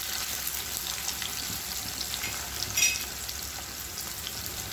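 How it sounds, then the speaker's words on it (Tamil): Onions sizzle and fry in an iron kadai, making a steady, close crackle with a brief louder burst of spattering partway through and no voices. "இப்போ வெங்காயம் போட்டுருவோம். வெங்காயம் நல்லா வதங்கட்டும்."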